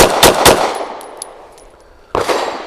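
A SAR 9C Gen 3 pistol fires a rapid pair of loud, close shots, a pause follows with faint ringing and clinks of brass, then another shot cracks out near the end.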